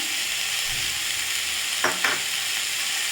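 Ingredients for a hotel-style poori potato masala sautéed in a pan, an even hiss of frying oil with two brief scraping strokes of a spoon, close and steady, no speech.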